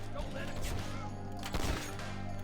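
Bolt weapon firing in Ashes: Hard Reset, a couple of sharp impacts with the loudest burst near the middle, over a low droning game background and with no talking.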